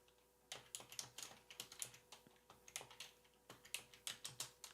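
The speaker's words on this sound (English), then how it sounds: "I'm just typing this out." Rapid, uneven clatter of keys being typed on a computer keyboard, close and fairly quiet, running steadily for several seconds with brief pauses and no talk over it.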